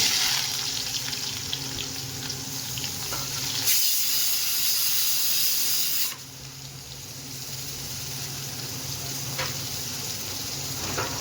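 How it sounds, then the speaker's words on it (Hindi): Onions frying in hot oil for egg bhurji, a steady broadband sizzle that continues throughout, with a brief louder hiss in the middle; no voices. "और ये इसे अच्छे से गर्म होने देंगे तेल को। प्याज ऐड कर दूँगी।"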